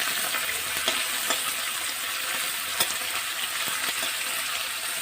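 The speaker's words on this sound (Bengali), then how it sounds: "ঠিকঠাক করে এবার মাছগুলো আমি একটু হালকা ভাজা হতে দেবো।" Small mourala fish fry in hot oil, giving a steady, moderately quiet sizzle broken by sharp crackles and the odd scrape of a spatula. No one speaks.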